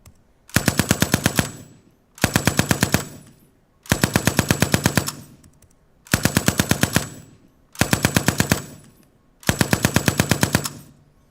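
Recorded firearm in automatic fire, six long bursts of rapid, sharp shots separated by short pauses, loud and close with a brief tail after each burst.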